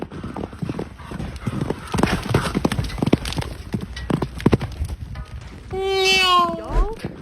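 Steady clip-clop of horse hooves with some voices underneath, then a loud horse whinny rises and falls near the end.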